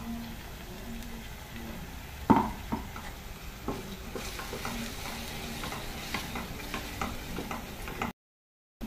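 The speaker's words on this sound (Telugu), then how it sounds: "ఇప్పుడు మనం చేసిన పేస్ట్ని ఇందులో వేసేద్దాం." Ground paste tipped into onions, green chillies and ginger-garlic paste frying in oil for a paneer gravy curry, giving a steady sizzle with scraping stirs and a sharp clatter near the start, then continued stirring close by without talk.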